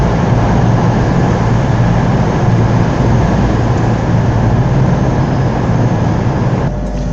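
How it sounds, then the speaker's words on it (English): A CrossCountry passenger train at Darlington station on the East Coast line rumbles and hums steadily throughout, a loud, continuous low drone that ends with a slight drop near the close. "Departing now is the cross-country Virgin East Coast service to London to King's Cross from Edinburgh"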